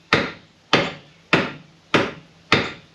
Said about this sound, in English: all I gotta do is knock it in place